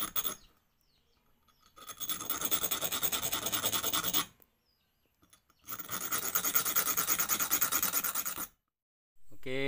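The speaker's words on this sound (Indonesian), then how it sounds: "Habis potongannya itu kita iniin di batu gerinda biar dia nggak tajam" A cut slingshot rod end is ground on a grinding stone to blunt its sharp edge, making two loud sustained rasping scrapes of about two and a half seconds each, separated by short pauses.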